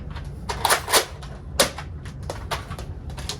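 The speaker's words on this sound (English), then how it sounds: "you put one disc in and you simply fire it" A Nerf Vortex Praxis blaster fires a disc, giving a series of sharp mechanical clicks and snaps, with one louder crack near the middle followed by quieter clacks, close up and with no talking.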